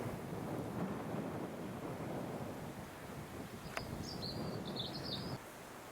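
Wind rising on a rural heritage walking trail in Rutland: a steady, close rush of gusts buffeting the microphone, with faint birdsong in the background and no talk.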